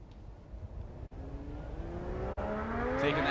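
A Formula Drift competition car at Grantsville, Utah accelerates on track, its engine note climbing in steady rising sweeps with two brief gear-change dropouts, moderately distant and growing louder toward the end.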